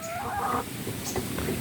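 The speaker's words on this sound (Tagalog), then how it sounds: "marami yung lalaki dito sa aming Rhode Island chicken" Rhode Island chickens cluck softly and nearby in a farmyard, with a couple of short calls over low background noise.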